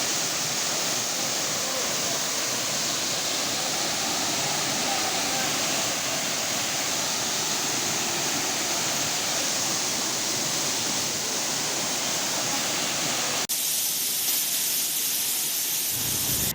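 Rushing water at Theopani Falls near Guwahati, Assam, a steady broadband roar running unbroken throughout, loud and close, with a brief change in texture near the end.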